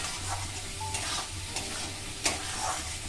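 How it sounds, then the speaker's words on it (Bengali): Fried potatoes tossed into a spiced fish-roe fritter curry base are stirred and sautéed in a pan, with a continuous soft sizzle broken by several sharp spatula scrapes. "সব দিয়ে আমি ভালো করে কষিয়ে নিলাম।"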